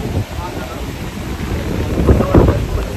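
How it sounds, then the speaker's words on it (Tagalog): Strong typhoon wind gusting and buffeting the microphone outdoors, a steady roar that swells louder toward the end with low rumbling bursts. "Habang ang bagyo po, ang lakas ang hangin."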